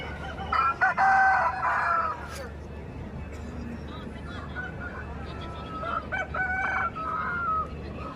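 Roosters crow in long drawn-out calls near the start and again later at a Sankranti festival in Bhimavaram, with softer hen clucking and a steady background hum in between.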